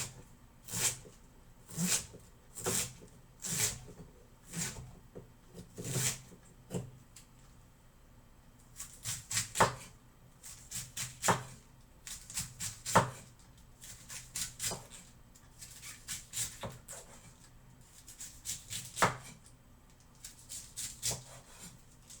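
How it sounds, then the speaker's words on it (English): A kitchen knife chops food, cutting it in half on a board in a home kitchen: a long series of close, sharp knocks, sometimes in quick clusters and sometimes spaced out. "Cut in half."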